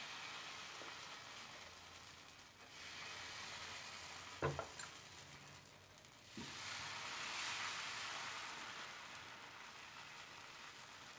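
Dosa batter for garlic dosa poured onto a hot tawa over a medium flame, giving a faint, steady sizzle with a couple of light clicks and small bumps partway through.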